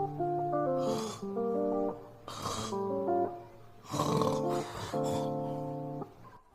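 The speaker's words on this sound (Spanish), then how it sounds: "El que ronca con estilo." A man snores in a comic way, with long rasping snores in a repeated rhythm under a steady musical tone, loud and close.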